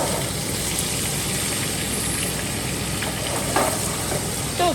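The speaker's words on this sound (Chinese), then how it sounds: "豆腐的话，这样煎它就不会散。" Shredded tofu frying in a pan, a steady broadband sizzle with a few faint clicks and taps from the pan near the end and no talking.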